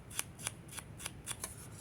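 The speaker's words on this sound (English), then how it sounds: "you just put your scissors up just like this, well, and you scrape one direction and the other" Scissors blades scraping along a paper edge in brief, quiet strokes, about six soft rasps in quick succession, close and alone.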